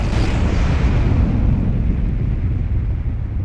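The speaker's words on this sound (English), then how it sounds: "That explosion is a good thing" A loud, deep explosion from the junkyard-themed video game Kingdoms of the Dump, a broad rumbling blast that fills the whole clip and slowly fades, with no voices over it.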